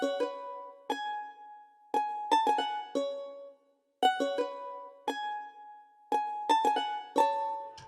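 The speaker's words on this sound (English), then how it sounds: "After this, the one-shot charango sound that sounds like this." A plucked charango one-shot sample plays a bright melodic phrase of short, sharp notes in irregular rhythm, each attack decaying quickly, with a brief silence near the middle; close and clear with no talking.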